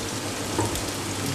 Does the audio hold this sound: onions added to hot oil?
yes